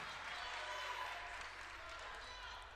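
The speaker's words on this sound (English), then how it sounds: "Here comes Tyler Evitz and the crowd" A college wrestling crowd, AU against Carthage College, cheers as a loud, dense roar that fills the arena and holds steady throughout.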